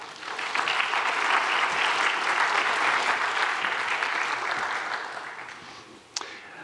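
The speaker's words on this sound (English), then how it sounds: "So give yourselves a round of applause, please." Audience at a university celebration event breaks into sustained applause, a dense wash of many hands clapping that holds steady for several seconds, then tapers off toward the end with a brief sharper sound near the close.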